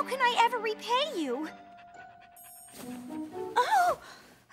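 An animated cartoon dog pants in short, rapid breaths up close, mixed in among excited cartoon speech and a sustained musical tone.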